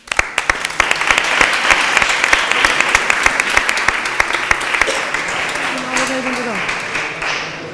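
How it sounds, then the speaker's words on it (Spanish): Sustained applause from an audience at a literary event, steady and fairly loud with distinct individual claps standing out, briefly joined by a voice toward the end before tapering slightly. "Venga, un aplauso, chicos."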